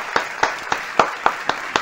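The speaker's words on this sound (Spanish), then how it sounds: "quiero que le brindemos un fuerte aplauso al profesor Rafael Briceño" Studio audience applauding a guest professor on a local talent show, heard as a series of distinct sharp claps or bursts, fairly evenly spaced and moderately loud, with no talking over them.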